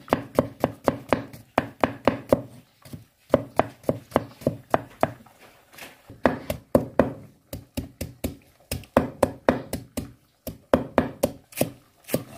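A knife chopping food on a board, fast steady strokes in bursts with brief pauses, close and crisp with no talk. The food includes crisp eggplant being minced.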